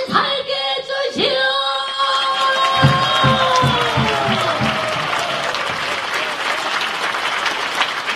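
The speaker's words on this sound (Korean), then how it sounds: "큰 격려의 박수 부탁드립니다." A large audience at a veterans' ceremony in a concert hall breaks into loud, sustained applause with some cheering, following a sung note that fades at the start.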